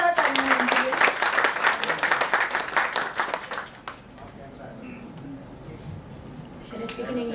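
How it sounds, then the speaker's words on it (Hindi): Audience at an All India Congress social organisation event applauding the chief guest as she comes to the dais: loud, dense clapping for about four seconds that fades away, followed by faint murmurs and a voice near the end. "जोरदार तालियां उनके लिए।"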